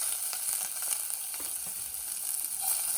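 Chopped curry leaves and a shallot frying with black gram in hot oil over a medium flame, a close, steady crackling sizzle with no talk.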